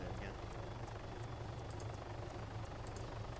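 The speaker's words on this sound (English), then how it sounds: "Can't hear you over the chopper, sorry." Helicopter engine from the video game Arma 3, a steady low droning rotor and turbine rumble with a faint rhythmic chop, continuous and loud throughout.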